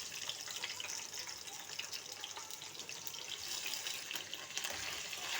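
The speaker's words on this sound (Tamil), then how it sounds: "எண்ணெய் சூடான உடனே கட் பண்ணி வச்சுருக்க கோவக்காயை சேர்த்துக்கலாம்." Cut ivy gourd (kovakkai) added to hot oil, giving a steady, soft, hissing sizzle that continues throughout with no voices.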